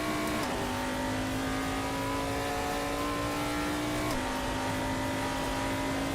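A race car engine revs in the Assetto Corsa video game, with a steady, droning engine tone that shifts pitch as gears change, heard continuously at moderate level without talking.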